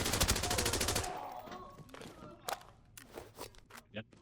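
A rapid burst of loud gunfire from an AEK rifle in Arena Breakout Infinite, a gun not set to full auto, cuts off after about a second, leaving scattered clicks, footsteps and faint shots.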